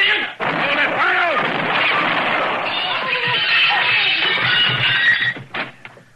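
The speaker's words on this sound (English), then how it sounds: "He tried to shoot Killian in the back." A gunshot in an old TV western-style drama rings out over a busy, band-limited soundtrack of shouting voices and commotion, followed near the end by a few sharp pops.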